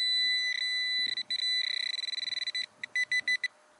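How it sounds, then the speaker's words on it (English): A Garrett Pro-Pointer metal detector pinpointer sounds its alarm while scraping through soil for a coin: steady high beeps that break into fast repeated pulses, then slower separate bursts, clear and close. "Use the Pro-pointer's blade to scrape through the soil until you hear a good signal."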